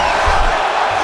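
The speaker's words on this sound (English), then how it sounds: "crowd pops as he gets out again" A dense, loud UFC arena crowd roars steadily as a fighter escapes a Kimura submission from a crucifix position in a Fight Night bout, a broad continuous swell of cheering with no pauses.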